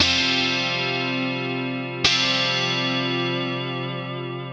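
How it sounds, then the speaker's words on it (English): A PRS guitar with humbuckers in split-coil mode through a Boss Katana amp rings out a bright, clean sustained chord that slowly decays, then a second strum with a sharp attack at about two seconds, played close without any voices. "I'm using it in the split coil mode, so we get that really bright sort of guitar sound"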